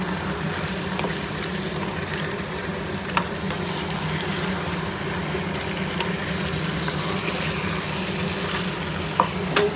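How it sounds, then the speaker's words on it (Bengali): Spiced meat sautéing in a pan gives a steady, moderate sizzle, with occasional faint clicks of stirring scattered through and no talk. "এবার মাংসটাকে আমি ভালো করে কষিয়ে নেব"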